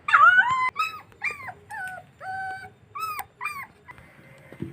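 A small puppy whimpers in a string of about eight high, wavering whines with short pauses between them, close by and with no voices.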